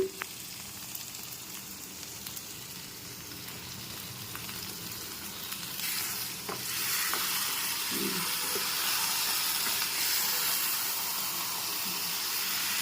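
Continuous loud sizzling and hissing from a frying green chicken curry on a low flame after a little water is added, with occasional soft scrapes of stirring, intensifying partway through.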